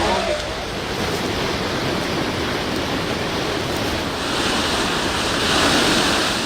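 Floodwater from a swollen river rushing after heavy rain, a loud, steady broadband roar that holds level throughout with no break.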